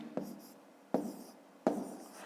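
Pen strokes on paper while numbers are written out for a long-division problem, three sharp taps each followed by a short scratchy trail, close and quiet, with no talking.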